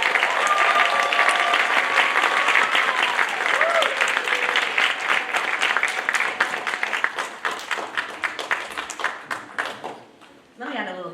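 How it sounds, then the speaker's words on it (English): A crowd at a school celebration event gives a sustained round of applause for a high school group, dense clapping that thins into scattered individual claps before fading out near the end, with voices faintly audible underneath. "can we just get one more round of applause for our high school?"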